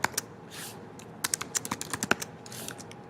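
Quick bursts of close keyboard typing, a run of crisp key clicks in uneven rhythm with short pauses between.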